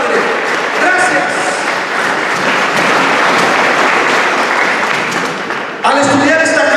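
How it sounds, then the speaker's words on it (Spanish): Church congregation claps in praise during a Bible study service, a loud continuous wash of applause that breaks off as a voice resumes speaking at the end. "Dale un aplauso al Señor."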